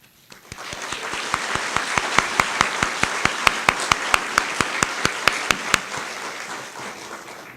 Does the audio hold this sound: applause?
yes